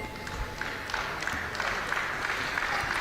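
Crowd applause at a World Boxing Cup amateur bout in Sheffield, a steady wash of clapping hands that fills the full three seconds, dense and sustained with no single claps standing out.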